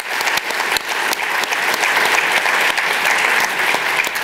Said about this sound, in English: let's give them that clap because we appreciate that.